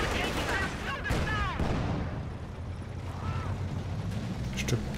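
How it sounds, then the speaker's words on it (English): Battle in Company of Heroes 2, with a dense, loud, continuous wash of gunfire and explosions, including a Panzerfaust anti-tank shot, and a voice talking over the din. "Looks like they've got a Faust off as well."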